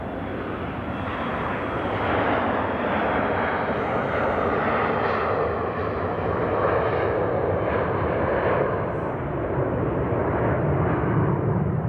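A US Air Force C-17 taxiing at Zurich Airport, a loud steady roar of jet engines holding at constant strength throughout, no voices.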